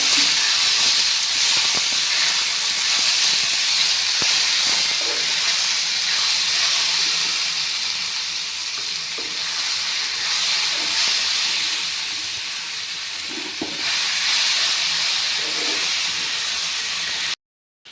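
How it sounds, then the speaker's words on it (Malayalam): Jackfruit pieces sauté in hot coconut oil with a steady, loud hissing sizzle that holds for the whole stretch, easing slightly in the middle before swelling again, with occasional faint stirring knocks. "ഇപ്പം നമ്മുടെ ചക്ക ഒന്ന് വെളിച്ചെണ്ണയ്ക്കിട്ട് ഒന്ന് വഴറ്റി എടുത്തിട്ടുണ്ട്"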